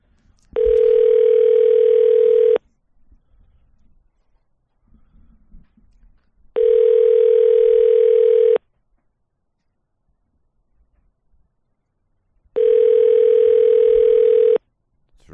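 A telephone ringback tone repeats three times, each steady burst about two seconds long with long silent gaps between.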